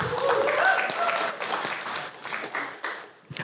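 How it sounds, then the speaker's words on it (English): An audience at a corporate panel event on diversity and equity applauds a sponsor, with a dense patter of clapping that gradually thins out over a few seconds, and a voice faintly underneath. "I wanted to give a big round of applause for Codility for sponsoring this event"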